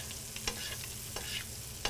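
Half-salted butter foams and sizzles steadily in a frying pan around a turbot fillet, a dense close crackle broken by a few soft stirring or basting scrapes, with no voices.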